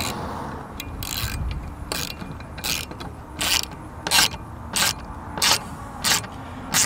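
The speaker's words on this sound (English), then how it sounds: "whatever hardware you use, obviously you're gonna need a socket. To tighten it all up." A socket ratchet tightens a bolt and nut on an aluminum ramp end for a 2x8 board, giving a steady series of crisp, close ratcheting clicks in regular bursts with no talk.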